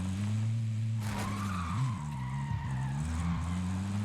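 Tires skid and screech from a car in the Warzone shooter game, a loud drawn-out squeal with engine drone that bends and wavers across the whole stretch, with no talk over it.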